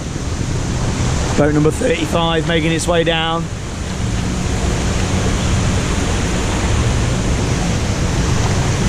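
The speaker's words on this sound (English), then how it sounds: "that's a long waterfall section we got there." The long waterfall section of a river rapids boat ride at Heide Park roars as a steady, loud wash of falling water and spray, with a brief announcement over a speaker near the start.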